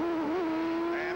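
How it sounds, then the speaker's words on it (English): CART race car from the 1988 Meadowlands street race, heard on board as a loud, steady engine drone whose pitch dips and wavers briefly as the car rides over a bump, then settles back to a constant note. "That last change of engine note that you heard was him riding over a bump"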